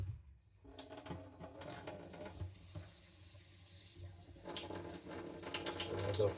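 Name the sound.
adding drops of water to sharpening stone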